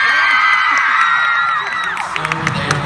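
Audience at a VidCon 2015 panel whoops and cheers loudly for about two seconds, voices overlapping in a dense crowd roar, then the cheering fades into scattered shouts and claps.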